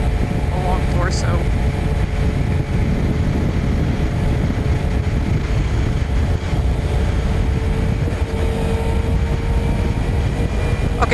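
A Kawasaki Ninja 300 motorcycle rides at a steady pace, its engine and rushing wind forming a constant broadband roar close to the rider, with a faint voice talking underneath.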